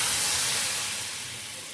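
Garam masala hisses loudly in hot fat as a tempering for masoor dal, a bright, steam-like sizzle that starts strong and slowly eases off, with no talking.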